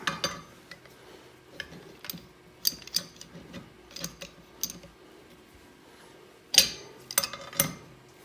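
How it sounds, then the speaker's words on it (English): Pipe wrench tightening a threaded pipe fitting into a brake rotor for a camera stand, giving scattered metallic clicks and ratcheting taps in short irregular bursts, faint and close with a denser cluster near the end. "Get out the old pipe wrench and start tightening up."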